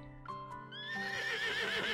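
A temperamental horse in the video game Love and Deepspace lets out a loud, close, shrill whinny that rises and wavers, with a couple of hoof knocks at the start as it shakes its head and rears up.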